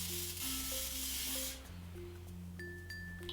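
Spray-on makeup blusher gives a brief, close hissing burst from its nozzle, then stops, with tonal background music underneath.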